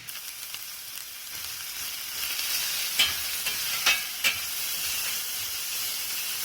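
Coriander leaves frying in a pan, a steady bright hiss of sizzling oil throughout, with a few soft stirring scrapes and taps standing out in the middle.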